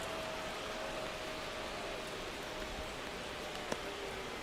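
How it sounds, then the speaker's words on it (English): Rain falling during a baseball game in MLB The Show 25, a faint, even hiss of steady drizzle with a low background drone and one brief click near the end. "The rain is here, and it doesn't look like it's going away anytime soon"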